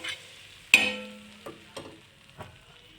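Pav buns toast in butter and pav bhaji masala on a pan, a few sharp spatula taps and clinks with faint sizzling between them, quiet and close.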